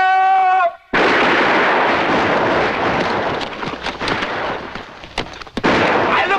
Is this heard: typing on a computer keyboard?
no